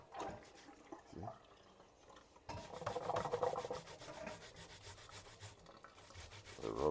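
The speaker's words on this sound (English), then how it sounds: "I rub it on the grater" Green plantain rubbed against a grater, rasping scrapes in short bursts with pauses, louder and denser strokes in the second half, close to the listener.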